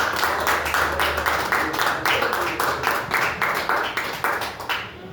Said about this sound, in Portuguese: Vamos receber o servo do Senhor com as palmas para Jesus